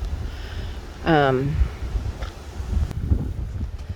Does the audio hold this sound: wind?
yes